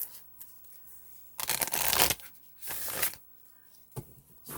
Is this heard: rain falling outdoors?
no